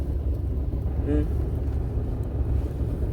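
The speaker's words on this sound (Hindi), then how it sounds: "ये देखिए क्लच पे ही चल रहा है इतना गाड़ी" A manual car creeps slowly along on the clutch during a first-day learner driving lesson, giving a steady low engine rumble with a brief tonal whine partway through.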